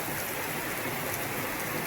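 Steady rain sprinkles down at Kukke Subrahmanya, an even, dense patter of drops on surfaces with no voices or other sounds above it.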